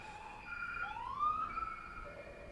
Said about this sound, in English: Could you guys hear that siren?